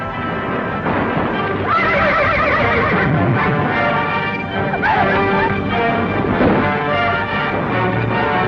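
Several horses neigh and whinny loudly amid a busy outdoor scene near a river crossing with a wagon caravan, hooves clip-clopping beneath a dense, continuous wash of noise.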